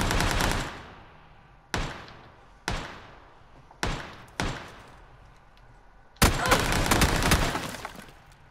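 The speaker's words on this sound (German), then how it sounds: "Da habe ich die Schüsse gehört." Sharp gunshots crack out one at a time with pauses between in PUBG, then a sustained burst of rapid gunfire rattles at the end.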